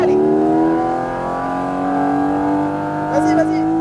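A Porsche GT4 RS on a race track accelerates hard, its engine note climbing steadily through the rev range, loud and close throughout, with a brief higher whine near the end.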